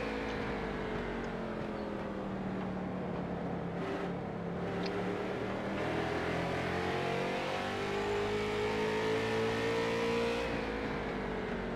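Race cars at Martinsville Speedway in a Friday night bump-and-run series, engines roaring steadily as the pack works through the turns, a continuous loud drone that rises in pitch and swells near the end.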